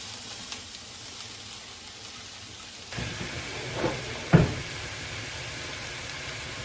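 Onions and mushrooms cooking down in a pan without oil: a quiet hiss swells in partway through, and a couple of sharp utensil knocks stand out close by.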